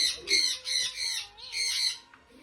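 Pet birds squawk in a series of loud, close bursts with short pauses between calls.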